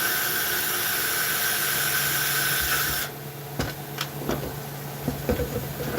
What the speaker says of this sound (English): Make sure I don't hit any internals when I drill these holes.